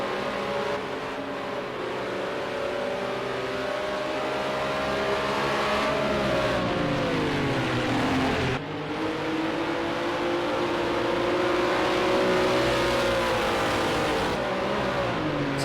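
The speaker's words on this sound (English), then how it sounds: "So down into Druids then for the 4th time, and Rory Skinner has now got half a second" Race cars in a sim racing game lap Brands Hatch, engines droning loudly and steadily with shifting pitch as they rev and brake, a brief dip around the gear change, several cars blending together.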